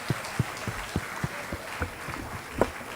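A welcome for the chief guest at a youth event's grand finale draws scattered, distant applause: a soft wash of clapping with several distinct thumping beats at a slow, uneven rhythm.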